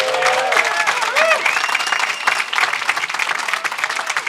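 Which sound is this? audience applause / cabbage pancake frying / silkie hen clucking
audience applause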